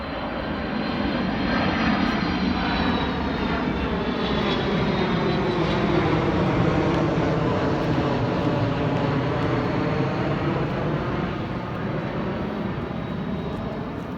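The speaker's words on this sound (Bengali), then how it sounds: "ওদের প্লেনটা যাচ্ছে।" A steady, loud roar of an airplane engine passes overhead, droning continuously without any voices.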